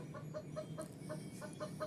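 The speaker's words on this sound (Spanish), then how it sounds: "Aquí tienes un sonido de pollo." Chicken clucking played as an animal sound effect by a smart speaker during a children's animal sounds game, a steady run of short evenly spaced clucks at moderate volume with no talking.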